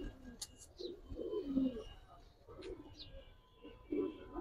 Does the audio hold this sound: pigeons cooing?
yes